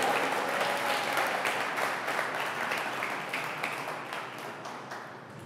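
Steady applause and scattered cheering from an audience at a State of the City address in Tualatin, honoring city staff, with dense clapping that slowly thins and fades toward the end.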